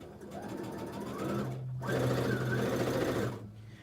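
A sewing machine stitches quilt block squares in a steady, close, continuous whir, with one brief pause before it runs again, and no one speaks.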